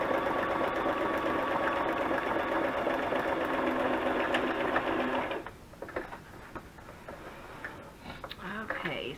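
A sewing machine runs steadily for about five seconds after its bobbin is rethreaded, giving a dense rapid stitching whir, then stops abruptly, leaving faint handling clicks and a short stretch of talk.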